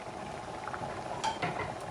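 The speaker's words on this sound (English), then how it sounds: "now that it's boiling" Broth for traditional Portuguese duck rice boiling in a pot: a steady, close bubbling hiss with a couple of light metallic clinks near the end and no speech.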